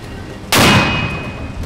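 A single loud gunshot on the front line cracks sharply after half a second of quiet, then a long rumbling echo decays behind it with no talk.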